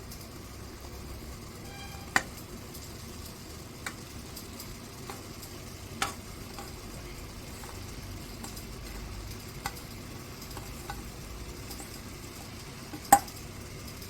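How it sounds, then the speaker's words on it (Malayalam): Cooked pasta tossed into sizzling masala in a pan, a soft continuous sizzle with a few sharp clinks of a spoon against the pan and occasional stirring scrapes, no talking. "വേവിച്ച് വെച്ചിട്ടുള്ള പാസ്ത നമുക്കതിലേക്ക് ഇട്ട് കൊടുക്കാം"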